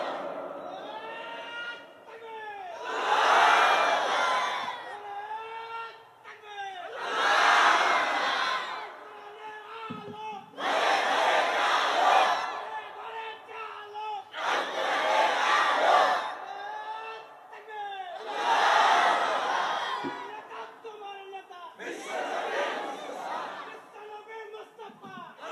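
A large religious gathering chants the takbir in response to a preacher's call, with roughly six loud, rhythmic crowd shouts rising and falling at regular intervals and a lone voice leading between them.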